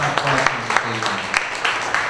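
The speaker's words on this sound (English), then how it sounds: "A round of applause for both gentlemen." Applause for two sheriff candidates at a Republican primary panel in Fulton County, with scattered claps over a steady wash of clapping and a voice or two murmuring underneath.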